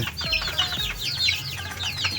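Chickens being raised for meat cluck repeatedly in a cheap cage made of scrap wood and bamboo, a steady chatter of overlapping short calls close by, with no one speaking.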